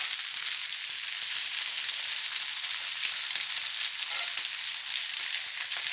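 Egg fried rice being stir-fried in a wok, with a steady, bright sizzle and frying hiss running unbroken throughout, no one speaking.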